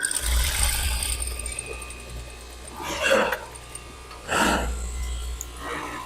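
A sewing machine stitches along the edge of a dress, giving two or three short bursts of close, mechanical whirring and clatter with quieter pauses between them and no talking.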